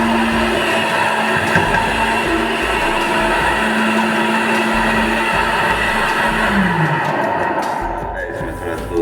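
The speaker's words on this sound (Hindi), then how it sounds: "ब्लेंडर" A loud, continuous blender whirs at full power mixing pancake batter with milk, its motor pitch shifting slightly as it churns, then easing toward the end.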